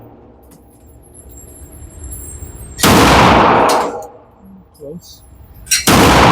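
Loud, close pistol shots from a Tisas 1911 single-stack at an outdoor range ring out sharply, three bursts spaced over several seconds with the echo hanging between them, and a brief spoken word comes in near the middle.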